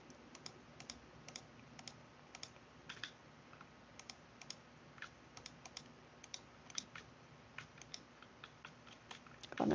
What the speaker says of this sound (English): I can like hear myself clicking on Twitch.